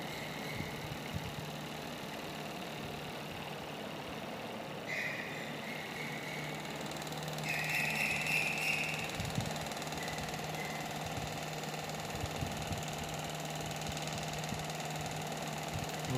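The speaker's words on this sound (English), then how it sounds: "this is the 9 pole BLDC motor with 12 pole rotor" A homemade 9-pole BLDC motor with a 12-pole rotor spins on a homemade controller at 10 volts, giving a steady mechanical whir and hum with a faint high electronic whine that shifts pitch briefly midway.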